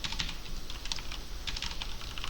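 Rapid typing on a computer keyboard as numbers are entered, a steady run of close, crisp key clicks with no talking.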